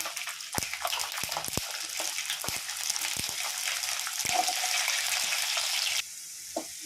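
Mustard seeds, cumin, fenugreek and garlic fry in a generous pool of oil for sundaikai kulambu, a constant hissing sizzle broken by sharp sputtering pops that drops off sharply near the end.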